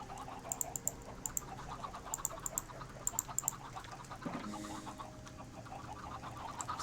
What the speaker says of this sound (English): So the chickens are starting to grow nice and big